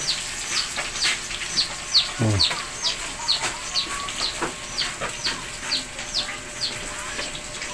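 Chicks in a farmyard give repeated thin, high chirps and peeps, with some clucking from a hen, steady and close through the whole stretch.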